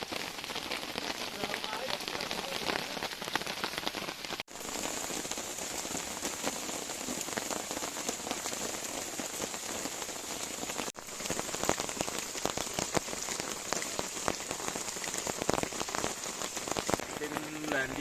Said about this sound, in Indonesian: Kebetulan hujan juga udah dari semalam dan ini tepat jam 12 siang